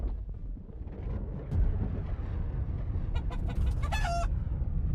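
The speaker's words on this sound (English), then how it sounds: "Who dares play a chicken noise in my ear?" A chicken clucking sound effect played into a gaming headset, a few sharp clucks and a squawk toward the end, heard over low rumbling game noise.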